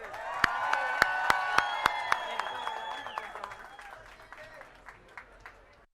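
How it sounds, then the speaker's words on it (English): Crowd at a Hollywood Walk of Fame star unveiling ceremony cheering and applauding, with sharp whistles and shouts over steady clapping that gradually fades toward the end; a voice briefly rises through the noise. "celebrate with us by cheering as we unveil the star for our newest star today"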